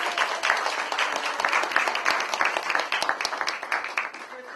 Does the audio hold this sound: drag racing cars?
no